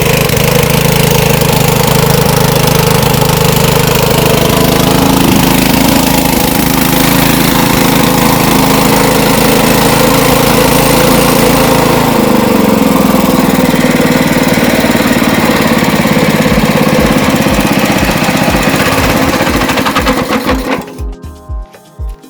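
A petrol engine drives an auger branch shredder and runs unevenly, with a carburetor that won't hold idle. A loud, continuous drone drops in pitch partway through, then sputters in chugging pulses as it dies near the end.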